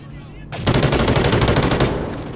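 A sharp burst of rapid automatic gunfire fires for about a second and a half in the video game Call of Duty Ghosts, loud and close after a quiet start.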